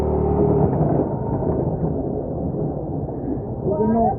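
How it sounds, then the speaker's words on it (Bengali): Thunder rumbling from a rain cloud outdoors near a river crossing, a long, low, steady roll filling the whole stretch, fairly loud, with a voice talking over it. "এই দেখুন কিভাবে মেঘ ডাকছে"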